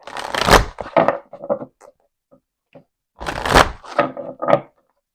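Large oracle cards featuring gods, goddesses and angels being shuffled by hand in two loud, close bursts of riffling and flapping, separated by a short quiet pause with a few soft taps.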